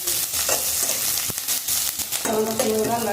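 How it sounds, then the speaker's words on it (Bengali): Garlic and green chillies crackle in hot oil in a pan while a spoon stirs them, giving a close, continuous sizzle broken by irregular scraping clicks. "একটু ভাজা করে নিচ্ছি"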